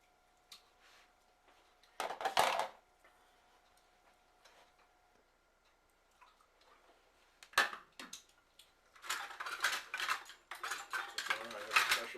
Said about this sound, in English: Spoon gets down in there and gets this right out and put it in this container